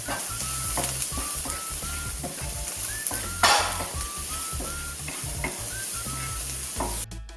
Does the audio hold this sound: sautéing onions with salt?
yes